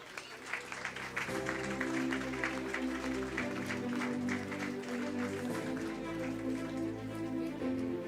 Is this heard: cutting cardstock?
no